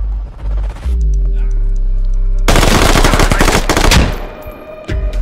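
Loud automatic gunfire from the military shooter game Squad: a sustained, rapid burst of shots rattles for a couple of seconds, then trails off before a last shot, close and dominant with no voices over it.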